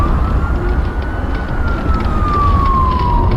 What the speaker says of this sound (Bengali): একটু আগেই একটা সাইরেনের শব্দ পেয়েছি।